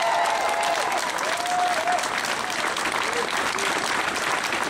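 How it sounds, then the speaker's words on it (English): A crowd at a public rally in Auckland, held to keep the Hobbit film shoot in New Zealand, bursts into dense, steady applause that fills the whole stretch, with faint cheers and whistles rising over the clapping. "Give them a clap for taking the gamble."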